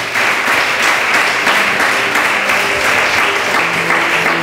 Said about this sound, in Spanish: Dele un aplauso al Señor bien fuerte.